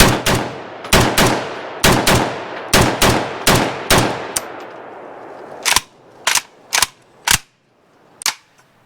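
An Arsenal SAM5 rifle fires a short magazine: nine or ten sharp, loud shots at an irregular but quick pace with ringing echoes, followed after a pause by several more spaced single shots.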